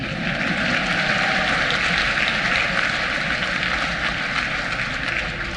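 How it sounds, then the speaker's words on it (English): Audience applause at BronyCon 2019 during a panel, a steady dense wash of clapping from a large crowd with a continuous rumble underneath, filling the room at an even level throughout. "Round of applause for the benevolent corporate overlords, please"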